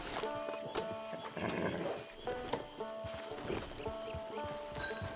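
Horse hooves in Red Dead Redemption 2 clop in an irregular rhythm of sharp knocks, with music or ambient tones underneath and no talking.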